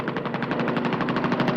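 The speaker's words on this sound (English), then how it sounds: "What about getting strafed by our own Air Force?" Sustained rapid machine-gun fire from strafing aircraft in the war film Kelly's Heroes, a dense continuous burst of loud, evenly spaced shots with no pauses.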